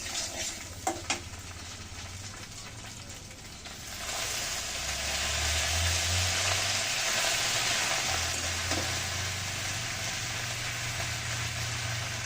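Leafy greens (bele shak) tossed into a pan with fried hilsa fish and chillies, a steady loud sizzle swelling as the greens hit the oil and stirring clinks at the start, no talk.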